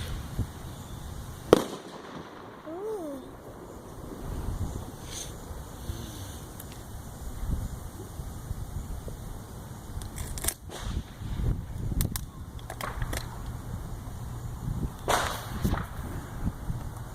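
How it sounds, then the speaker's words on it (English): Fireworks set off outdoors by people nearby, giving scattered sharp bangs and crackles at irregular intervals over steady background noise, with a few louder pops toward the end. "People lighting off fireworks."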